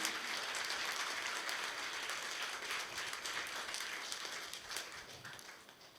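A crowd at an inauguration program for a church assembly claps together in a dense, fairly faint round of applause that gradually tapers off toward the end.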